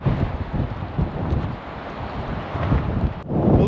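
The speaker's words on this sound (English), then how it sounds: "It's incredibly windy." Strong wind in San Francisco buffets the microphone in a steady low roar, with gusts swelling and easing throughout.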